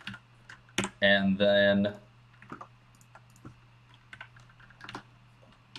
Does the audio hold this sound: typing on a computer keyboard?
yes